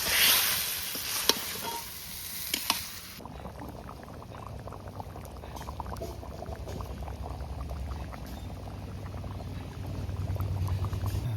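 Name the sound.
fish curry gravy with taro boiling in pot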